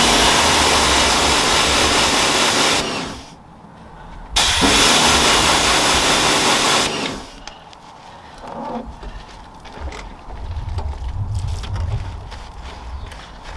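A hose sprays water onto a car wheel during hand washing, a loud steady broadband hiss in two long bursts with a brief pause between, then quieter dripping and handling noises afterward.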